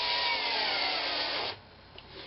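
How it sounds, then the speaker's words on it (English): Power tool driving wood screws to fix a pecan wood blank down for woodturning, a steady whirring grind for about a second and a half before it stops, leaving faint workshop noise. "Just going to screw it down."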